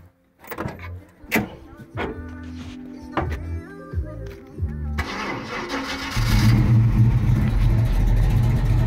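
A car engine cranks and catches after a few clunks and mechanical clicks, then settles into a loud, steady running rumble close by.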